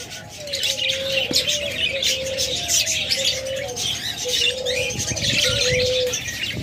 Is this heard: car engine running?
no